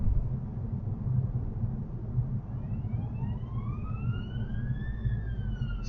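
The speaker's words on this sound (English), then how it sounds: "Ambulance on the roundabout." An ambulance siren wails faintly in the distance at a roundabout in Aylesbury, rising and falling over steady traffic rumble and gradually growing clearer toward the end.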